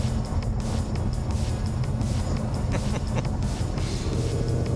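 A loud, steady low engine rumble from a 2015 Ford Mustang GT with a Corsa Xtreme exhaust, droning continuously with some wind buffeting over it.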